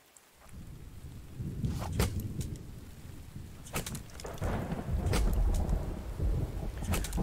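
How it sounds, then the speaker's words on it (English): Steady rainfall in the survival game The Infected, a constant hiss of falling rain with low rumbling swells and a few sharp bursts, continuous throughout with no talk. "Luckily, it's always raining for that water basin"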